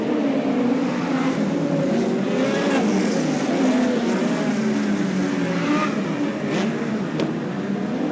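Midget speedcars race at Archerfield Speedway, their loud engines droning and rising in pitch together as the pack circles the track, a steady roar with no pause throughout.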